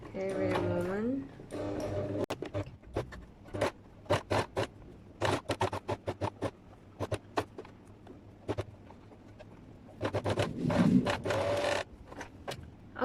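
Sewing machine stitching the side pocket of a pair of trousers, heard as bursts of rapid mechanical rattling that start and stop in short runs, with a voice speaking between them.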